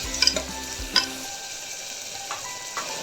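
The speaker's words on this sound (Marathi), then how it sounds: "बारीक चिरलेला फ्लॉवर हिरवे बटाणे आता थंडीचा सीझन आला म्हटल्यावर बाजारात हिरवे बटाणे भरपूर येतात हे सगळं व्यवस्थित मिक्स करून घ्यायचं आपल्याला" Chopped cauliflower and green peas stirred while frying in oil, with a few spoon clinks early on and then a steady low sizzle.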